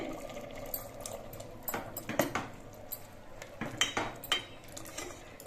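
Spoon stirring a water-mixed turmeric and spice paste into khichuri of parboiled rice in a pot, giving soft clinks and scrapes against the metal with faint liquid movement, fairly quiet and close.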